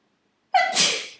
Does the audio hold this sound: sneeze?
yes